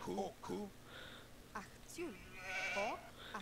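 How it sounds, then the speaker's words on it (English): Sheep bleat repeatedly in the real-time strategy game Age of Empires: The Conquerors HD, several short wavering bleats spread across the moment, some overlapping, with faint game ambience underneath. "you want to grab your sheep"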